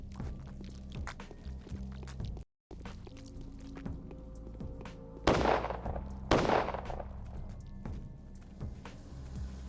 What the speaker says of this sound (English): Look at all the people shooting.